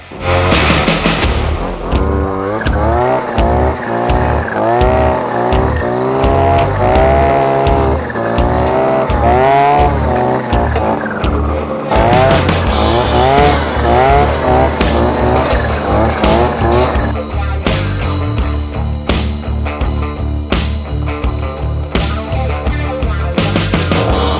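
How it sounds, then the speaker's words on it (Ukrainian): An APRO petrol grass trimmer fitted with a three-blade knife cuts grass, its engine whining loudly and steadily, revving up and down with warbling pitch changes and a brief dip partway through. "Ну а ці зараз ми спробуємо покосити трьохполюстковим ножем."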